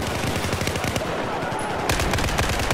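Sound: machine gun fire in Battlefield 4 video game

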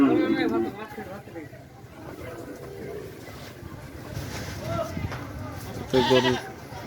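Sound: goat bleating at a cattle market

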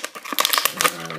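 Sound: peeling tape off action figure packaging

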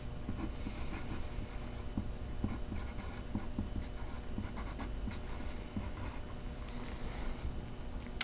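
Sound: writing a name on paper

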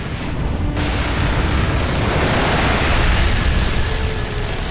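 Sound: gunfire and explosions from the video game Gears of War 2

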